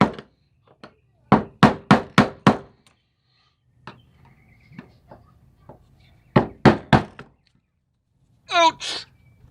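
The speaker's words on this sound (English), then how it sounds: "Couple more taps and it'll be locked right in place." A series of sharp metallic taps lands on a fuel pump lock ring in a Pontiac G6, first in a quick burst of about five, then scattered lighter taps, then another burst, close and loud between silences.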